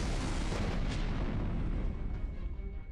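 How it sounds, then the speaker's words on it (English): Explosions in the Code: Realize - Guardian of Rebirth video game, a dense, sustained rumbling blast that fills the whole stretch at steady loudness with no speech. "another explosion rocks the sky pirate into the wall"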